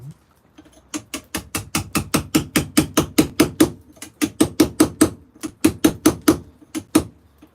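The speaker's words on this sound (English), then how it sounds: "I want to use the bigger hammer on that." Hammer blows on a chisel cutting stone, a long run of sharp, evenly spaced metallic strikes close by, pausing briefly before continuing in quick steady rhythm.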